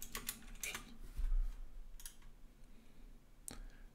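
Bursts of keystrokes on a computer keyboard enter an invoice number, several quick clusters of clicky taps spaced irregularly over a low room hum, close and fairly quiet.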